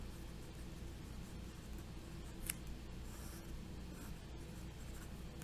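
A pen writes numbers on paper during a math lesson on graphing from vertex form, giving a faint, steady scratching with a few sharper ticks and no talk.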